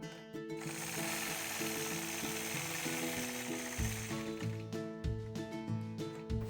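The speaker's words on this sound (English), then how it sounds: "I'm going to stitch my next curve." A sewing machine stitches a curve against a Sway quilting ruler in a steady, continuous mechanical whir with rhythmic needle clatter, close and even throughout, with no voices.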